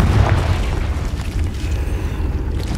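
A Confringo explosive spell from Hogwarts Legacy goes off as a deep, heavy boom with rumbling low-end that rolls on steadily for a few seconds, loud and close.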